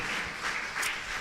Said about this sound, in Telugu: అందరూ కొంచెం గట్టిగా చప్పట్లు కొట్టండి.